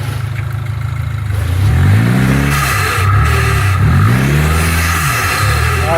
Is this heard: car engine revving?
yes